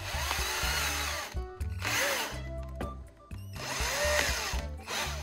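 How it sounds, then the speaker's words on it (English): A power drill spins a metal rod to sharpen its end, whirring in repeated bursts, its motor pitch rising and falling as it grinds against the metal, loud and close with no talking. "Attach it to the drill and sharpen one end."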